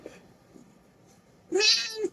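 A cat meows once, close and fairly loud, after a quiet stretch with faint background murmur.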